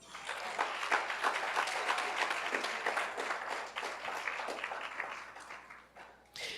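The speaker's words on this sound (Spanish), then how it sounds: "Denle un aplauso a Cristo" A church congregation applauds steadily for several seconds, the dense clapping fading a little toward the end before a brief final burst.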